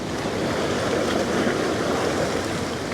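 Sea water surges through a rocky coastal channel, producing a steady, loud, broadband rush of churning surf with wind noise and no voices.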